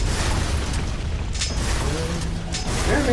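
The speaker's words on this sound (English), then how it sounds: "I have to destroy it. You must destroy the wood." Wooden obstacle smashed apart in the video game Ninja Blade, a dense crashing burst of splintering debris and rumbling impact noise that stays loud for a few seconds, with a brief mechanical whir near the end.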